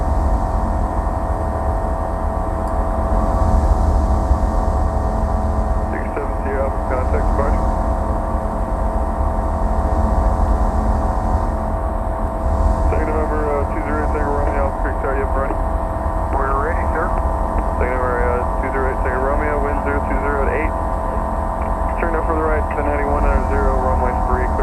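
Bristell light aircraft engine climbing after takeoff, a constant loud droning hum heard from inside the cockpit, with radio chatter and voices over it in places.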